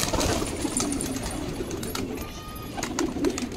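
Blue pigeons kept by a fancier near New Delhi station coo and flutter in a loft, a dense continuous murmur of birds close by with no talk.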